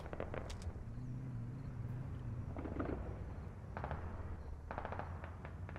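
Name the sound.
gunfire in the video game Squad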